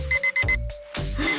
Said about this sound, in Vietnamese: Im lặng đi, đồng hồ báo thức.